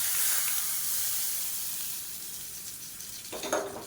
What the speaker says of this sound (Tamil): அமர்த்திட்டு தேங்காய் எண்ணெயில் கடுகு, உளுந்து, சீரகம், வரமிளகா, கருவேப்பிலை, பெருங்காயம் போட்டிருக்கேன். இது தாளித்து அப்படியே இதில் போட்டுடலாம்.